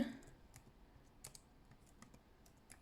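Someone types a title on a computer keyboard, a quiet, uneven run of light key clicks and taps, nearby and with no talking.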